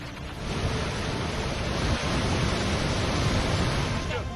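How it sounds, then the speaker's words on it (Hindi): Flash flood water rushes through streets in Pahalgam, Kashmir, during heavy monsoon rain, a loud, continuous roar of churning water that stays constant throughout. "देखिए कैसे सड़कों पर दरिया बह रही है।"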